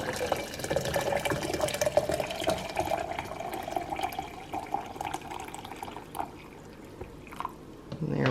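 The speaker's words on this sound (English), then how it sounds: "put the rest of the water in here." Water pours steadily into a container for several seconds, then tapers off into a few faint drips and splashes.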